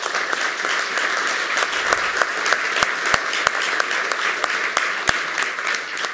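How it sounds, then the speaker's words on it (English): A conference audience at a hacker congress lightning-talk session applauds the audio crew, a dense, steady wash of many hands clapping with sharp individual claps standing out, sustained for several seconds. "A round of applause for the audio angels."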